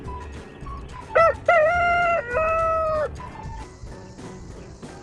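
A rooster crows among farm animals, a loud, close cock-a-doodle-doo in several drawn-out tonal phrases, with softer clucking and barnyard bustle before and after.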